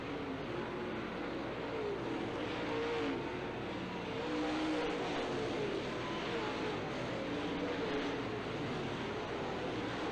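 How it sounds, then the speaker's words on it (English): Late model stock cars race around an oval raceway, a loud, continuous engine roar from the pack holding steady through the whole stretch, with no talk over it. "Down the back straightaway, it's Blair by 2 car lengths"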